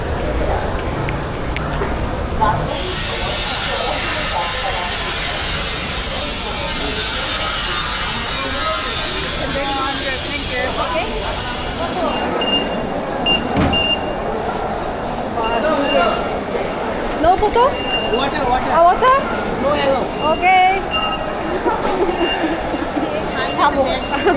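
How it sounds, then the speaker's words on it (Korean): A subway-like train ride in Bangladesh: steady rumbling rail noise inside a moving carriage, with a brief high beeping tone and people talking over the din. "지하철 같아요."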